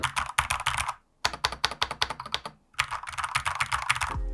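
A Lorgar Azar 514 gaming keyboard typed on in quick, close bursts of sharp key clicks, with two brief pauses and no voices.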